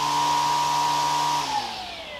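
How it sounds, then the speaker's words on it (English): Toro 60V Flex-Force battery string trimmer whirring steadily with a high whine of line whipping the air and a faint motor hum, then slowing and dropping in pitch as it spins down near the end. "It's the string that you're hearing, not the actual motor. Little bit of motor, but most of that is just the string whipping the air."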